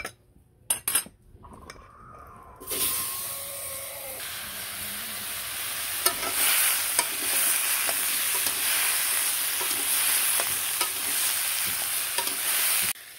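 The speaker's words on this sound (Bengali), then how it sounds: "তেল দিয়ে একটু পেঁপে আর আলুটা ভাজাভাজি করে" Papaya and potato pieces fry in oil in a pan for a home-cooked curry, giving a steady, close hiss and sizzle with stirring. A few sharp utensil clatters come before the frying settles in.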